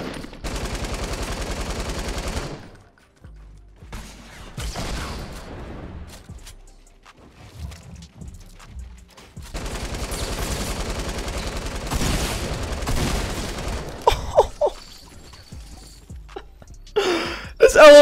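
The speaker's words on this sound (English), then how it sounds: "LMG is just freaking destroying people, man" Light machine gun fire in Fortnite Battle Royale, long sustained bursts that start and stop across the stretch with sharp impacts between them, loud and close, and speech mixed in at times.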